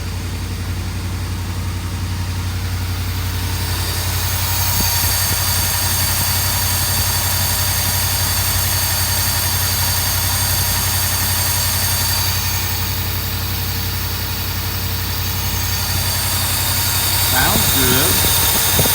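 A Mercedes 380SL engine idles steadily with a low, even rumble, close and continuous, with a few faint clicks and knocks near the end.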